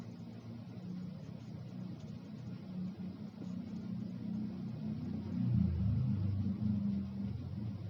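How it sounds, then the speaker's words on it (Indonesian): A motorcycle engine rumbles faintly in the distance, growing a little louder toward the end as it passes by, with no talking. "Ada suara motor tuh barusan lewat."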